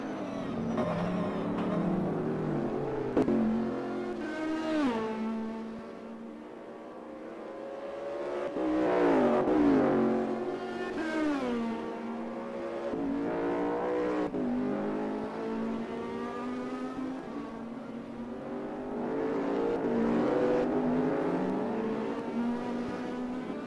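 Race cars lap a track during a winter-season racing round, engines whining and rising in pitch as they accelerate, with several swelling passes and no voices.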